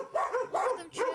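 Dogs at a village house in Oleksandriiske barking warily at visitors, three sharp close barks in quick succession.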